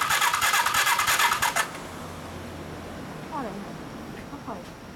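A Kawasaki Zephyr 400 motorcycle engine with Yoshimura exhaust cranks and catches in a loud, ragged burst, then falls away and fails to keep running; low idle rumble and brief squeaks follow while people talk nearby.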